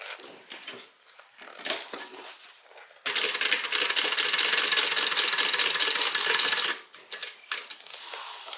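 A sewing machine topstitching a seam on a fabric sling bag, a steady mechanical whirr running for several seconds between quieter handling clicks and rustles of fabric.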